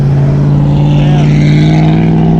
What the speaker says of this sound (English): We got old school Mustang, loud truck, and old school car.